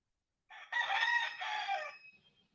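A native rooster lets out a single loud, close cock-a-doodle-doo of about a second and a half, rising then trailing off, with quiet surroundings before and after.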